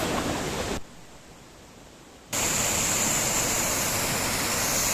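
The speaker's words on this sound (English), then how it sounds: "There it is behind me, the Stock Ghyll Waterfall, the Stock Force." Stock Ghyll Force waterfall in Ambleside in the Lake District roars as a loud, broad rushing wash, briefly muffled for about a second and a half before returning at full strength.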